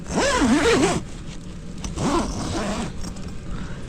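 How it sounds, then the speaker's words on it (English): A clothing zipper on gear inside an icy tent in a winter storm is pulled in two rasping strokes, a long one then a shorter one, loud and close with no talk. "Where's the zipper?"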